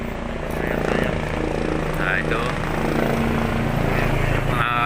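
A search and rescue helicopter flying overhead after the Semeru volcano eruption, a loud, continuous droning engine and rotor sound sustained throughout, with people talking over it.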